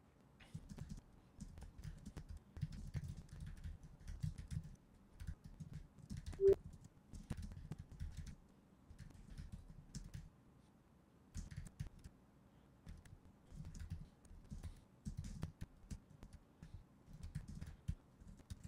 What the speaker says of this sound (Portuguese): Eu vou adiantar o vídeo para não ficar perdendo tempo digitando